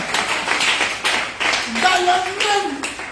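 A church congregation applauding to acclaim the Lord, a steady wash of many hands clapping, with a voice calling out over it.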